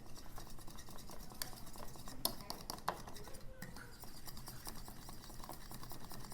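Light clinks and taps of a utensil against a bowl while honey and mayonnaise are mixed into a sauce, quick irregular strikes, close but faint, with a low kitchen background.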